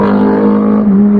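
A BMW S1000RR sport motorcycle revs loudly nearby, giving a sustained, strained engine note that rises slightly near the end of a short burst, with no talking.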